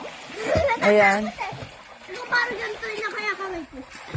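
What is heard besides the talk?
people splashing while swimming at night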